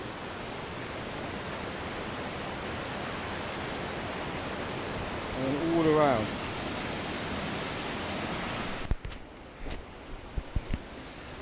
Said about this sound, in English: You see the water below me? Rushing water everywhere.